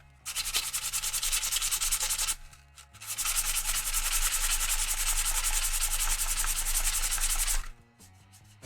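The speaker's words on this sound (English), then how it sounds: "I'm going to sand that guy flat." Sandpaper rubs a wooden instrument surface flat in close, steady rasping strokes: one long pass, a brief pause, then a longer continuous pass before stopping.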